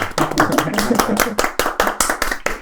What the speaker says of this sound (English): Applause for the old man